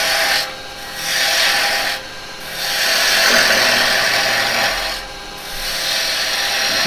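Woodturning tool cuts into spinning yew on a lathe, riding the bevel: three long rasping, scraping passes close up, each broken by a short quiet gap, with no talking.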